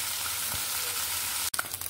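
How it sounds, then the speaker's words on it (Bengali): Small puti fish, kept a few days in the fridge, fry lightly in a pan with a steady, close sizzle, ending in a brief knock and stir. "আমার ফ্রিজে কয়েকদিন থাকার কারণে এই জন্য আমি একটু হালকা ভেজে নিচ্ছি।"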